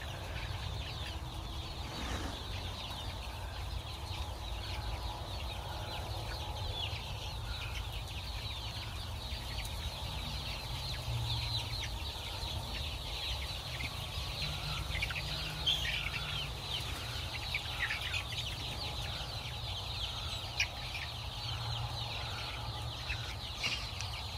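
A flock of pasture-raised chickens clucks continuously at a moderate distance over a steady outdoor background, with geese kept nearby.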